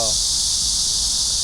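Cicadas droning in summer along the Seoul Trail, a loud, unbroken high-pitched buzz that dominates the whole moment with low background rumble beneath.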